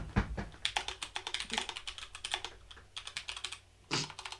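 Rapid keystrokes on a computer keyboard, a steady close stream of clicky taps with brief pauses and a firmer burst near the end, no voices.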